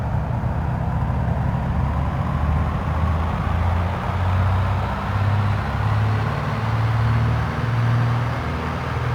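Cessna 170B piston engine run up to full power on the brakes in a flight simulator, a steady loud drone with a low rhythmic pulsing throb, continuous and alone without talk.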